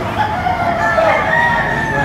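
Gamefowl roosters crow at a cockfighting venue in Padre Garcia, Batangas, over a steady, noisy background, with drawn-out calls overlapping throughout.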